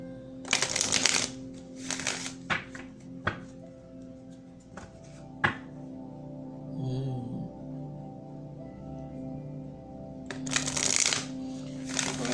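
A deck of energy cards is shuffled close up in short riffling bursts at the start and the end, with softer taps and card handling in between and a faint low hum beneath.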